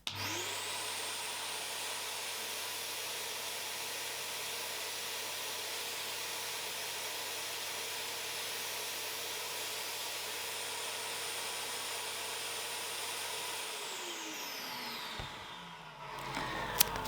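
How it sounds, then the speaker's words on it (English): A vacuum cleaner used to collect model railway ballast into a bottle roars steadily with a high whine for a long stretch, then spins down as the motor shuts off. "So I'll turn the vacuum cleaner on and I'll just show you."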